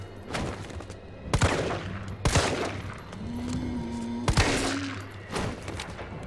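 Gunshots in Resident Evil 3 Remake: a few sharp, loud reports spaced about a second apart, with a faint game ambience and a low droning tone between them.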